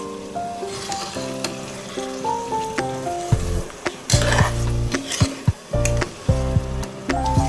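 Fenugreek dal being stirred in a pan, with a soft sizzle and scattered scraping clinks of the spoon against the metal, all under steady background music.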